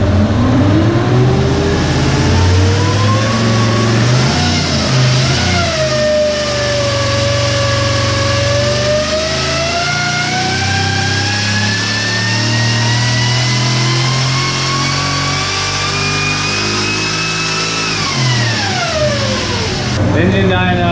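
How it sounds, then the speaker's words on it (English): A supercharged GM LSA crate engine runs on an engine dyno, loud and close, its revs climbing steadily under load for a long pull with supercharger whine, then dropping off at the end. "they're gonna do a test run with this LSA"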